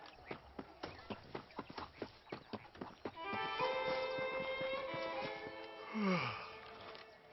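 Horse hooves clip-clop in steady rhythm in the Western video game Red Dead Redemption, then give way to a sustained tonal music cue with a brief whinny-like sweep near the end.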